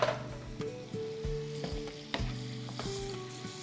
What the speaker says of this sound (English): we're going to baste our steak